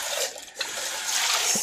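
Running water rinses soap out of a cooking pot, a steady trickling splash with a brief pause, then water pouring on more strongly near the end.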